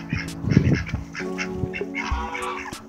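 Ducks and geese in springtime: loud, close honks and quacks overlap in a busy, uneven chorus, with harsh calls rising and falling against a noisy outdoor background.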